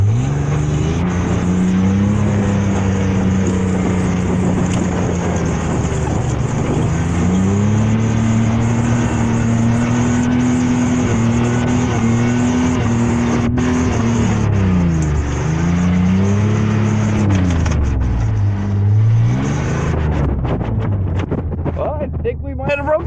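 A logging truck driving off-road in four-wheel drive, its engine droning loud and close, rising and falling through several revs and strains over about twenty seconds, with wind buffeting the microphone.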